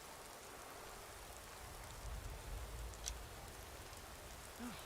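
Steady rain falls outside in a Skyrim game world, a soft, even hiss running the whole time at low volume with no voices.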